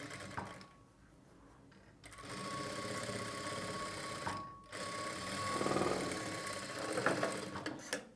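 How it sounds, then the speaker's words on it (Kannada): A sewing machine stitches through lining fabric beside a strip of piping, running in a steady continuous hum that pauses briefly near the start and again midway, with no talk. "ಪೈಪಿಂಗು ಪಕ್ಕದಲ್ಲಿ ಲೈನಿಂಗ್ ಮೇಲೆ ನೀವು ಒಂದು ಹೊಲಿಗೆನ ಹಾಕ್ಕೊಳ್ಬೇಕು"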